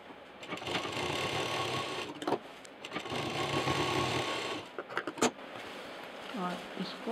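A sewing machine sews a strap onto a backpack in several close bursts of rapid stitching, separated by short pauses and handling clicks.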